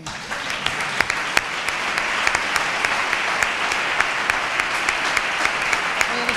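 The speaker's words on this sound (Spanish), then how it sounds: "Un fuerte aplauso para ella." An audience at a book presentation in Nerva applauds warmly, a dense, steady clapping from a roomful of people with a few sharper individual claps standing out. It lasts several seconds without interruption.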